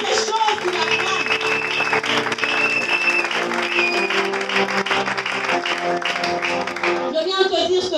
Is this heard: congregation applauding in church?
yes